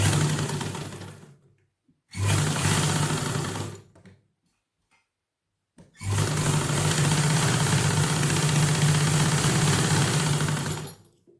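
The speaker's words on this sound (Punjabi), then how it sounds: "ਇਹਨੂੰ ਜੇਬ ਨੂੰ ਇਸ ਕੰਨੀ ਤੋਂ ਇੱਥੋਂ ਧਰ ਕੇ ਆਪਾਂ ਸਿਲਾਈ ਕਰ ਦਾਂਗੇ" A sewing machine stitches a pocket onto pyjamas, running in three loud, steady bursts with short silent pauses between them, the last run lasting about five seconds, with no talk.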